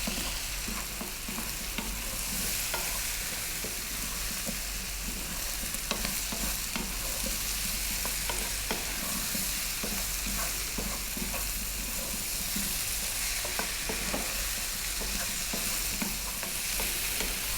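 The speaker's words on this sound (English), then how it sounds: "I'm going to be stirring this all the time now because we've got our powders in there" Curry vegetables and spice powders sizzle and fry in a pan while being stirred steadily, with scraping stir strokes repeating over a continuous close frying hiss throughout.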